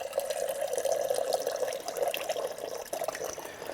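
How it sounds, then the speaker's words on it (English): Water runs steadily through a GE refrigerator's replacement water filter and pours into a glass, a continuous close splashing flow that stays even for several seconds with no voices. "I run 3 glasses full of water through the filter before it's, in my mind, ready to drink."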